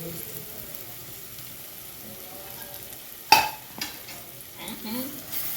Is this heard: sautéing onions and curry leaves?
yes